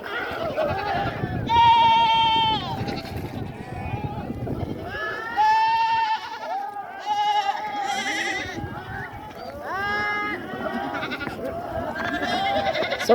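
Goats and sheep at a water point on a Kenyan goat farm, bleating repeatedly from several animals, some close and loud, with someone talking throughout.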